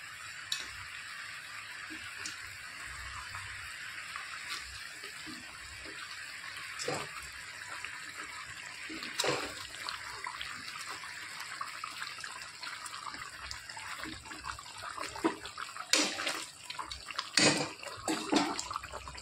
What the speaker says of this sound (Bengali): ঝোল টকবক করে ফুটছে, এবার এক এক করে মাছগুলো আমি ছেড়ে দেবো।